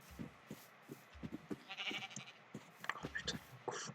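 Sheep in a survival video game give short, repeated bleats at a low level, with one longer bleating call in the middle.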